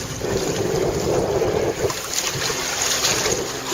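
Steady broadband wind rushing across the microphone while under sail on Chesapeake Bay, with water and hull noise beneath; continuous and fairly loud throughout, no voices.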